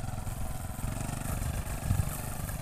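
A motorcycle engine drones steadily at close range, swelling briefly louder as it passes, with no talking.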